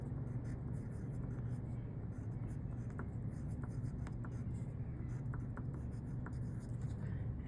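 Pen or pencil scratches across paper as steps are written out by hand during perspective drawing practice, soft and close with faint tapping strokes over a quiet hiss.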